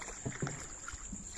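A boat moves through mangrove water after a honey harvest, with soft splashes and knocks against the hull and a few brief bumps over a quiet wind-like hiss.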